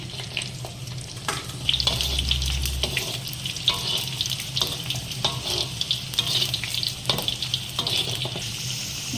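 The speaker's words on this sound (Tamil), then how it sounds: "கொஞ்சம் கொஞ்சமாக போட்டு இதை பொரிச்சு எடுத்துக்கலாம்." Elephant foot yam pieces deep frying in hot oil for a spicy chukka masala, a steady crackling sizzle with bubbling bursts throughout, close and fairly loud, with no voices.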